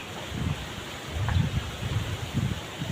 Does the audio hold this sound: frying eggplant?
no